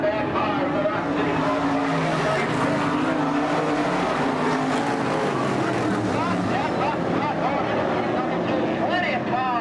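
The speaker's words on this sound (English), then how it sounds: "Plenty of power underneath that Olsen Eagle as he takes the car into turn number 3" Race car engine, an Olsen Eagle, roars steadily through turn three at an auto race, loud and continuous with crowd and track noise, under a commentator's voice.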